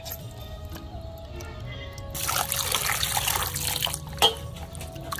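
Tap water runs and trickles into a sink while tripe (boti) is washed, a steady soft flow that grows fuller and splashier partway through, with one brief louder splash near the end and no talk.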